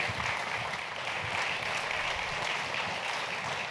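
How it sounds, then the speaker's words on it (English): Conference audience applauding a guest brought on stage, a steady wash of clapping that holds level and fairly loud throughout with no talk over it. "Round of applause for Jason."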